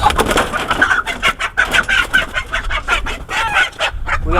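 Chickens cluck steadily in a busy coop, short repeated clucks overlapping at close range with some rustling underneath.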